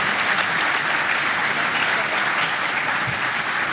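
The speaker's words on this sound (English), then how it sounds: "Let's give them a big round of applause for going on display today." An audience at an economic forecast panel event claps for the panelists, a dense, steady round of applause filling the room, with a voice speaking faintly underneath.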